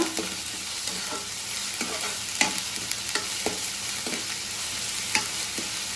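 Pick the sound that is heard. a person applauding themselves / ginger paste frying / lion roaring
ginger paste frying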